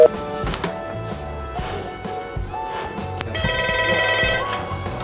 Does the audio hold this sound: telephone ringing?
yes